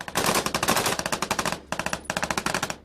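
Machine gun fire during combat in Afghanistan, loud close bursts of rapid, evenly spaced shots, three long strings separated by brief pauses.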